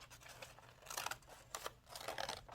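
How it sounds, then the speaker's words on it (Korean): Scissors snipping paper into a wreath shape during a children's craft class, a few quiet, separate crisp cuts with short pauses between them. "금색이 보이게 리스 모양을 맞춰가면서 금색이 보이게 이렇게 잘라주세요."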